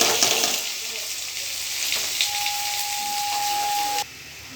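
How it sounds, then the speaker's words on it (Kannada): Chopped onions sizzle steadily in hot oil in a pan, a bright continuous frying hiss at close range with a few stirring clatters, cutting off abruptly near the end. "ಎಣ್ಣೆ ಕಾದಿದೆ, ಈಗ ಈರುಳ್ಳಿ ಹಾಕೋಣ."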